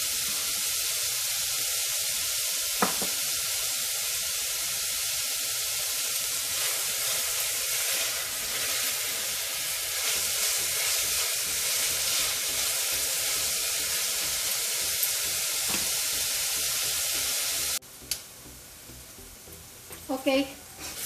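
Onions sautéing in a pan for Punjabi-style rajma give a steady, close, broadband hiss for most of the clip, then cut off abruptly into quiet near the end with a few faint knocks.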